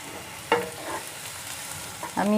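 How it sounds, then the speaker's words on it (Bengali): Chopped onions and green chilies sizzle in a pan while a spoon scrapes and stirs, with a couple of clear stirring strokes standing out above the steady frying hiss. "আমি এগুলো খুব লাল করে ভাজবো না, 2 থেকে 3 মিনিট হালকা নাড়াবো।"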